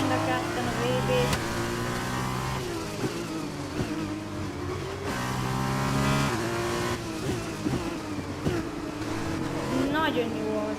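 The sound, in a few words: Formula 1 race car engine in F1 2021 video game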